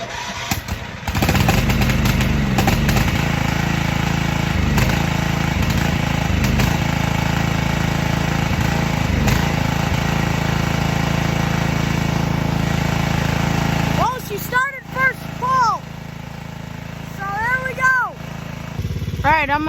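A 1985 square-hood Murray lawn tractor starting cold, its engine catching and running with a loud, steady, close mechanical drone that later drops and falters, while a person speaks intermittently over it.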